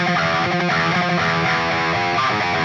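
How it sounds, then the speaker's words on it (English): A heavily distorted electric guitar plays a short, choppy riff in 11/8 time, an uneven rhythm, loud and close. "So I've written an 11/8 riff on guitar, which sounds like this."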